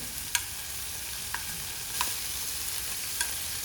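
Turmeric, salt and chili powder fry in a pan with a low steady sizzle. A few sharp taps of a spoon against the pan stand out at spaced intervals, and no one speaks.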